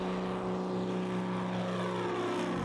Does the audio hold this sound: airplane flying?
yes